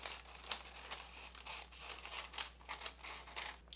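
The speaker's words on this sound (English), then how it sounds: "I cut right along the 1, 2, 3, 4th line" Scissors cutting paper along a folded line, a series of soft crisp snips and rustles in an irregular rhythm, close and quiet, with no talking.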